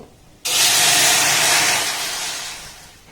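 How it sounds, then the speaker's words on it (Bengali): A cup of water poured into a pan on a lit gas stove gives a sudden loud, broad hissing rush that holds steady for about two seconds, then slowly fades. No one speaks. "কড়ার মধ্যে দেখুন এই কাপের মাপ করে এক কাপ আমি জল দিয়ে দেব"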